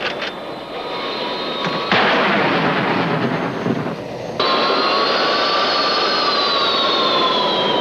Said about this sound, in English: Although we've lost power in our port engine, we still have full starboard power